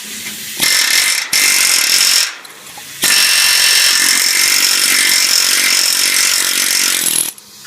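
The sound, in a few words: air chisel chipping paint off caravan chassis metal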